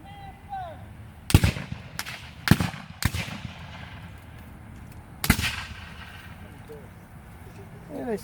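Historical reenactors fire muskets by file at a cavalry demonstration on a battlefield, producing several sharp, separate reports spread over a few seconds, some close and loud, with voices and outdoor noise between shots.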